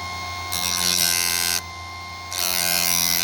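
A Chicago Electric chain saw sharpener grinds a saw chain in two loud, steady bursts with a brief pause between them, its high-pitched whine over a low motor hum.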